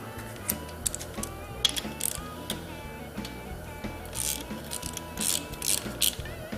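Ratchet wrench backing a 10mm bolt out of the right-side engine case of a CR500 motorcycle, giving quick, close, dry metallic clicking bursts at an uneven rhythm, alone with no talk.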